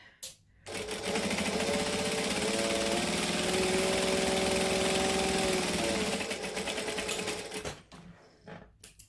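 A sewing machine stitches a sling bag in one sustained, steady whir of rapid needle strokes lasting several seconds, close and clear, starting and stopping abruptly.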